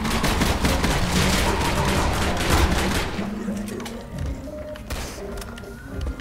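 Rapid M1 carbine gunfire in the zombie video game Zombie Stories: a dense, loud volley of shots for about three seconds, then thinning to scattered thuds and quieter shots over background game noise.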